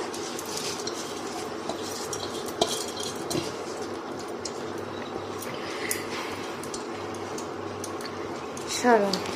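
Metal spoon stirring and scraping niramis khichuri, rice and lentils, in a cooking pot, with repeated clinks and soft squishing over a steady background hum and murmur.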